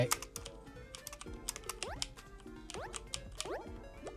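Computer keyboard keys tapped in quick irregular presses while someone plays a timed puzzle game, close and fairly quiet, with clicky strokes and faint game sounds behind.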